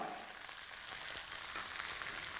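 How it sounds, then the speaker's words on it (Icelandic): Skate wings fry in a pan of butter with parsley and capers, giving a steady, close hiss of sizzling with small crackles and no talking. "Og þegar við erum að steikja núna"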